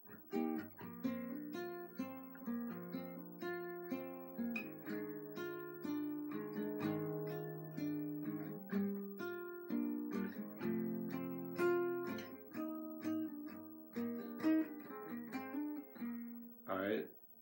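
Chorus chords of a song played on guitar, a steady run of strummed and picked chords with shifting harmony, close and fairly quiet, without any talking.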